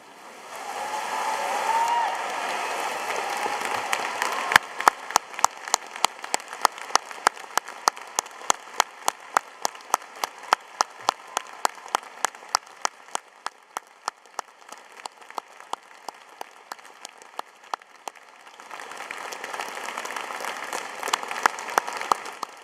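Audience at a graduation ceremony applauding doctoral candidates, broad steady clapping that rises and fades, with a run of sharp rhythmic claps through the middle, moderately loud with no talking.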